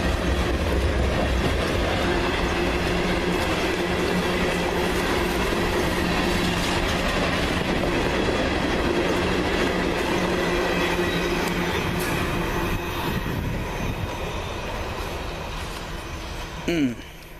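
A train rolls past close by near Merrimac, Virginia, with a loud, steady rumble and rattling wheels, easing off slightly near the end with a brief squeal.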